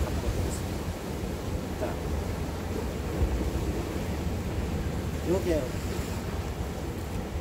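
Sea waves at a Songjeong fishing spot after days of rain and wind make a steady broadband wash mixed with wind noise on the microphone, while someone talks briefly over it.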